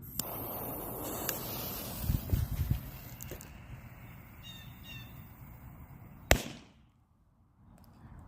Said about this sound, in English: we're gonna do the TNT one first